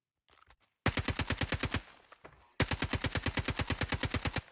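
Rapid automatic gunfire from a test weapon in Call of Duty Mobile DMZ, set to infinite ammo: a few scattered shots, then two long, loud, evenly spaced bursts of fire separated by a short pause.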